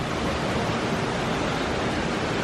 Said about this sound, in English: There's waterfalls in the background